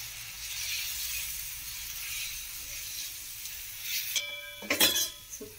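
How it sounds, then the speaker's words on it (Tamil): Ragi dosa batter hits a hot kadai near the end, a sudden loud hiss and sizzle after a quieter stretch of faint kitchen hiss and light clinks. "கடாய் காஞ்சிச்சுங்க. இப்போ தோசை விட்டுக்கலாம்."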